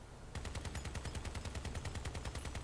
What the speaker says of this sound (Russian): Только что-то, блядь, как-то стреляет хреново, не как миниган